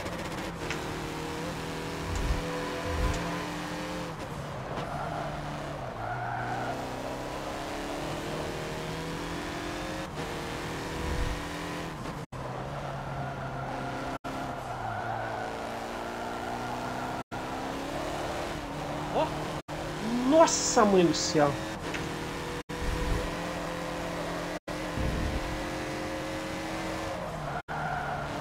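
A race car in Forza Motorsport brakes and slides, its tires squealing and skidding over a droning engine note that rises and falls, with one sharp squeal standing out; someone talks excitedly over the driving.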